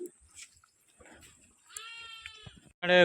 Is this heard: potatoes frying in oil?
no